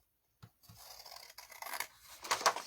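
Scissors snipping through paper for a 3D collage craft, a few close, quiet cuts and rustles that grow into a brisker slicing crunch toward the end, with no talking.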